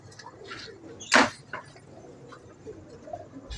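A pigeon coos nearby in a few soft, low throaty calls, with a brief louder flutter or scrape partway through against quiet background noise.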